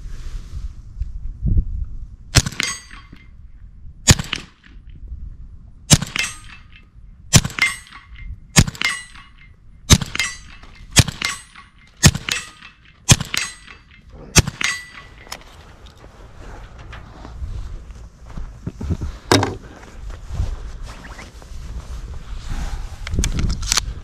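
A suppressed Ruger Mk4 22/45 pistol fires a series of about a dozen sharp, cracking shots at irregular intervals, with metallic ringing of targets being plinked outdoors, loud and close.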